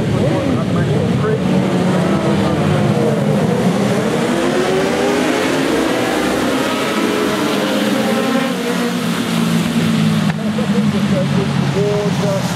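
Racing motorcycles, a Kawasaki among them, scream past at the Oulton Park Wirral 100 road races, engines rising and falling in a continuous loud howl of revving and shifting, with a commentator's voice running over the top.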